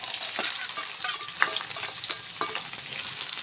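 Thinly sliced onions fry in hot oil with mustard seeds and cumin for an aloo peas masala curry, giving a steady close sizzle broken by scattered stirring scrapes and pops, with no voices.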